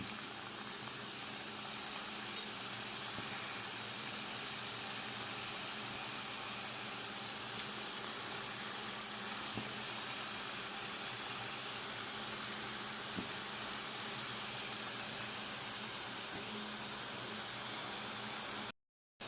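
Semolina nimki frying in hot oil on a low gas flame, a steady even bubbling hiss with faint occasional ticks, continuous throughout.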